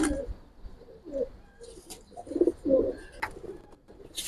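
Soft coos from Giribaj pigeons repeat at an uneven pace, low and fairly close, with faint background rustle and no talking.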